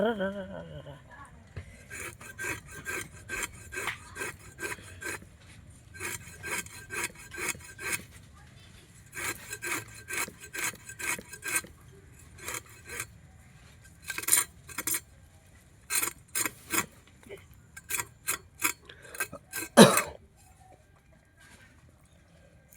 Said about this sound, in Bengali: এই যে ল্যাঠা মাছ ছাড়ানো হচ্ছে।